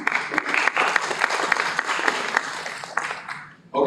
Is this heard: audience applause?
yes